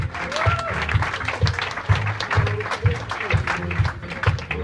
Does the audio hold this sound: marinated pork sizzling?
no